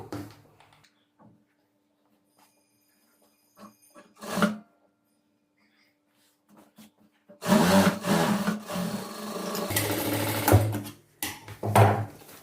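A sewing machine stitching a folded hem on fabric, running in a loud close burst of rapid mechanical whirring after some quiet handling noises and short taps.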